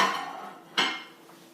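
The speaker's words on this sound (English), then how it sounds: "I'm going to put my bar of soap into my dish, my microwave-safe dish, and I'm going to put it in the microwave" A microwave-safe dish holding a bar of soap is set down with one sharp clatter of ceramic, followed by a brief ringing decay.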